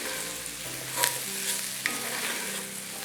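Cashews frying and being stirred in a pan for Sri Lankan tempered cashew, with a steady sizzle and a few scraping clacks of the spoon, close and alone.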